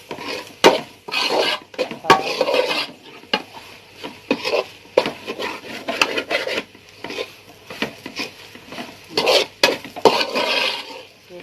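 A spoon stirs onions and spice powders in a pan for a chicken masala dish, making close, irregular scraping and rasping strokes with short pauses and no voices.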